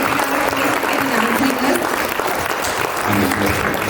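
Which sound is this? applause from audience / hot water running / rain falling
applause from audience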